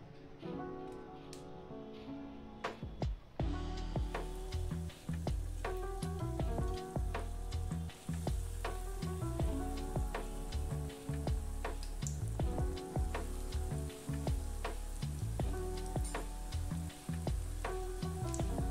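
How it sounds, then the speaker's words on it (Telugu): Vegetable cutlets shallow frying in hot oil filled halfway up the patties, giving a steady, close sizzle with dense crackling pops throughout and no talk. "ఈ కట్లెట్స్ హాఫ్ మునిగేంత వరకు ఆయిల్ పోసుకున్నాను. షాలో ఫ్రై చేసుకుందాం."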